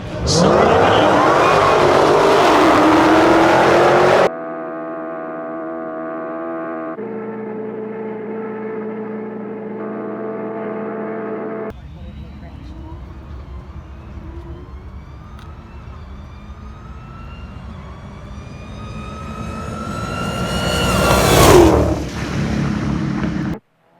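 Dodge Demon and a nitrous-fed Hellcat, both Hemi V8 drag cars, at a drag strip invitational grudge match: loud engine roar and a steady droning tone, then a long rising pull building to a sharp peak and cutoff near the end.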